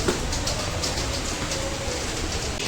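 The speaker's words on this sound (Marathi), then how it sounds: "गाईच पाऊस बघ कसा पडत आहे." Steady rain falling, a dense continuous hiss with scattered drops, with a low rumble underneath and no talking.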